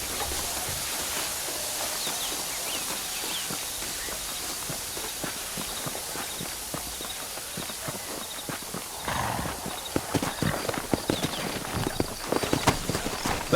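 Steady clip-clop of horse hooves trotting in Red Dead Redemption on PS5 over a constant ambient hum, with a horse's whinny and clatter picking up toward the end.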